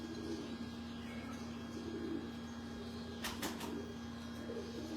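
Grey pigeons kept by a breeder coo faintly and intermittently against a low steady hum, with a brief sharp rustle or flutter near the end.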